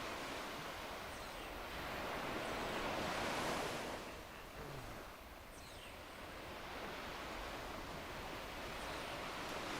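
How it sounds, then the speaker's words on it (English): Water-feature waves in the video game MMORPG Tycoon 2 produce a steady, soft, rushing surf wash that swells briefly near the middle and then settles, with no voices present. "that's a really nice water feature"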